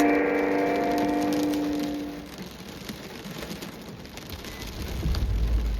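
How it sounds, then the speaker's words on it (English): Steady rain falling outdoors, heard from inside a parked car as a dense even hiss drumming on the body and windows, with a fading tonal hum at the start and a low rumble near the end. "I'm just sitting in my car, waiting for the rain to stop."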